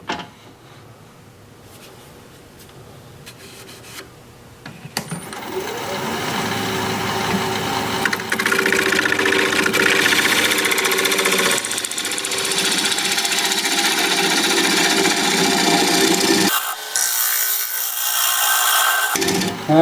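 Wood lathe spinning at about 900 RPM while a tool turns a wooden bowl, a loud continuous scraping hiss of cutting over the motor hum, building after a quieter start and briefly dropping near the end.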